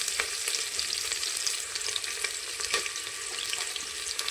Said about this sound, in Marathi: हे तेलामध्ये आपण चांगलं फ्राय करून घेतलं पाहिजे, त्यामुळे भाताला खमंग चव येते।